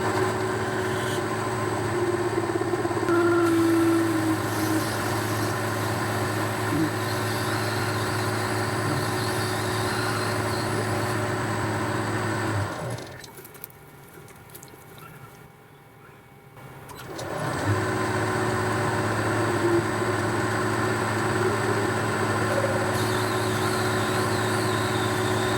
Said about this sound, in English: Now I need to drill the hole